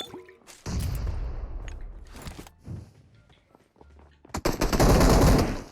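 Bursts of automatic gunfire in the mobile battle royale game PUBG Mobile, a sustained volley early on, a few shorter shots, then a loud close final burst.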